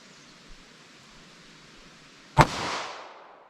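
A single sharp 9mm pistol shot from a 3.2-inch barrel firing Speer Gold Dot ammunition, a loud crack with a brief echoing tail after a quiet stretch.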